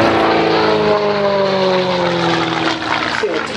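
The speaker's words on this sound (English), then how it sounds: "Now that engine, producing a lot of power, that four-bladed propeller" A Gamebird GB1 aerobatic aircraft with a powerful engine and four-bladed propeller drones loudly overhead at an air display, its engine tone sliding downward as it climbs vertically.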